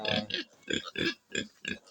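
Pigs grunting in a pig pen on a small farm, a series of short, close grunts in irregular bursts with brief pauses between them.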